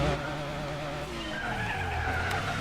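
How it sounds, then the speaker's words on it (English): A car in Gran Turismo 4, fitted with economy tyres, spins its wheels at the start of a 4WD challenge race. The tyres squeal loudly and continuously over a rising, droning engine note. "As you can tell, it's already wheel spinning, but it is keeping up."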